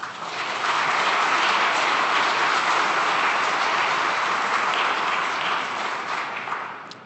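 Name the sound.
audience applause for introduced guest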